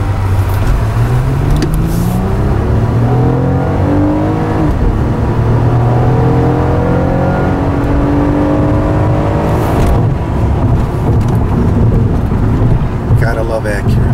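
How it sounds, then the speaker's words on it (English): 2006 Acura TL V6 engine accelerating on a test drive, a loud in-cabin drone rising through gears in sweeping climbs and shifts, with heavy road and wind rumble underneath. "Gotta love Acura 6-cylinder."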